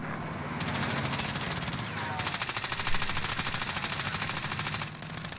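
Rapid automatic gunfire in the video game Warzone, a dense rattling stream of shots that is loud and continuous with a brief shift in tone partway through, carrying on without talk.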